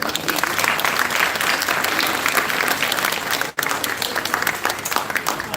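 An audience at a school opening ceremony gives full, dense applause, loud and sustained, with a momentary break about two-thirds through before the clapping resumes.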